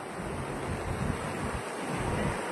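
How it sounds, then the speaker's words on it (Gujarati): A flooded Rel river near Dhanera in Banaskantha runs bank to bank during the monsoon, its fast water making a steady, dense rushing roar mixed with gusting wind noise on the microphone. "ફૂલ સ્પીડમાં પાણી વહે છે."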